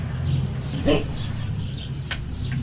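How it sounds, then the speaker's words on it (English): Faint birds chirping and tweeting in the distance over steady outdoor background noise, with a couple of brief louder bursts. "I like the bird sound. That's nice."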